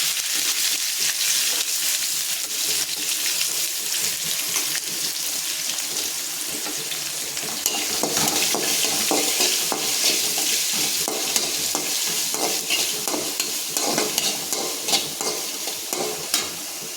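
Onions fry in hot oil for a potato kurma, a steady close sizzle with a spoon stirring and scraping through the pan the whole time, with no voices.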